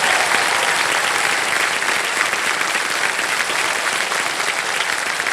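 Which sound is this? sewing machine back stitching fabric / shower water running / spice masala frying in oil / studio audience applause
studio audience applause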